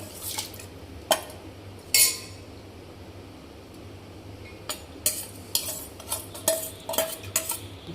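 A utensil scrapes and clinks against a pot of rice cooking for kheer in bursts of stirring, with faint sizzling and bubbling underneath between the strokes.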